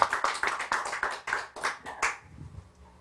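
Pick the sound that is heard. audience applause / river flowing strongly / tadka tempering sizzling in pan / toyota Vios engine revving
audience applause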